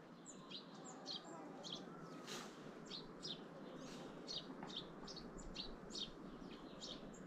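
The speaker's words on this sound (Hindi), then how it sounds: "एक बार चुपचाप यहाँ पे इन चिड़ियों की चहचहाट सुनते हैं।" Morning chirping of many small birds near a hill-country home in rainy season, repeated bright tweets at a steady rhythm over a soft background hiss, moderately distant and gentle, with no talk.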